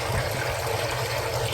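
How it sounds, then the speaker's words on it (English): Water runs steadily from a tap into a bowl outdoors, a continuous close splashing trickle with a broad hiss that stays even and unbroken for its short length. "I'm going to fill a bowl with water"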